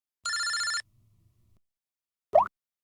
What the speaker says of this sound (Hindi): इनका फोन मत उठा तुम।